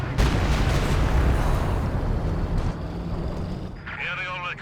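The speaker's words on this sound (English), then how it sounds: "Sounds like the B4 firing on this Panzer IV" Heavy B4 howitzer fire in Company of Heroes 2, dense rumbling battle noise with booming low-end blasts sustained throughout, ending in a tonal ringing sweep.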